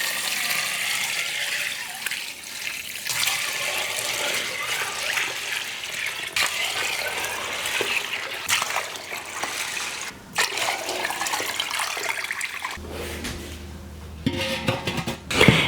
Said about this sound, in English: All I need to do now is just rinse them really good and then drain off all of this water.